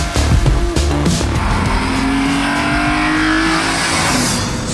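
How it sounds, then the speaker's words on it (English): A BMW M3 E46 CSL engine revs loudly and close, a sustained rising roar with a rasping edge that holds steady, alone with no voices. "So, the BMW M3 E46 CSL."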